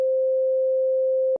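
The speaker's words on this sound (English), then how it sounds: "let's just use a regular sine wave here" A synthesizer oscillator in an FM synth plays a steady, plain sine tone at one pitch for over a second, loud and alone, then cuts off abruptly.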